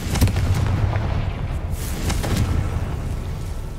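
The Confringo fire spell in Hogwarts Legacy sets something alight with a loud blast, followed by a rough, sustained roar of flames and low rumbling bursts that stay dense and steady to the end.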